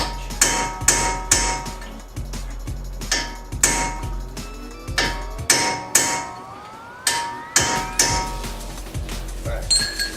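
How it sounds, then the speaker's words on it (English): Hammer blows on a brass punch driving out a seized tie rod on a 2004-2008 Nissan Murano, a dozen or so sharp metallic strikes in an uneven rhythm, loud and close with ringing clinks. "so you just got to get some good hits on it. Remember, I'm using a brass punch."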